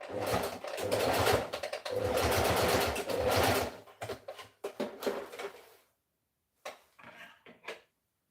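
Sewing machine stitching in a home handmade-crafts setting: a loud, steady mechanical run for about four seconds, then shorter bursts with pauses and a few brief clicks near the end.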